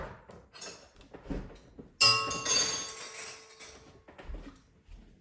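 A teaspoon taken out in a home kitchen makes a bright metallic clink and rattle of cutlery, close and clear, fading over a couple of seconds amid light handling sounds.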